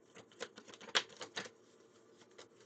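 Soft, quick papery flutters and taps in short bursts, like cards being riffled and shuffled close up, with quiet pauses between.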